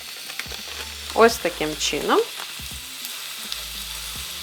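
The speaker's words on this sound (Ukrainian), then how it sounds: "І тепер котлету перевертаю на гриль." Butter-greased burger patty sizzling on a grill for a homemade McDonald's-style burger, a steady close frying hiss with some scraping and handling noises while a voice speaks briefly.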